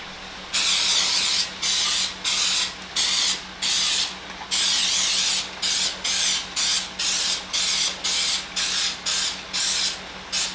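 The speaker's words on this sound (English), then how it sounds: "First I'm gonna spray my pans, and I use this coconut spray." Repeated short hissing bursts of a coconut oil aerosol cooking spray onto pans, close and loud, coming in quick rhythmic pulses with brief gaps between them.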